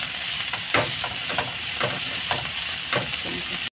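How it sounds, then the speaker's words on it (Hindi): Broccoli and corn sauté in a hot pan with a steady, close sizzle. Brief stirring scrapes recur about every half second, and the sound cuts off abruptly at the very end. No one speaks. "ये ब्रोकली भी मैंने डाल दिया है, इसको थोड़ा सा हल्का सॉटे कर लेंगे।"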